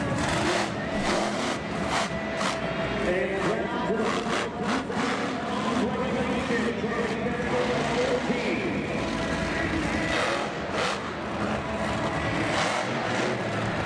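A loud, roaring monster truck engine revs and growls continuously at a Monster Jam event, with crowd noise and a booming announcer voice mixed in throughout.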